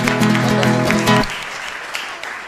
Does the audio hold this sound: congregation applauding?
yes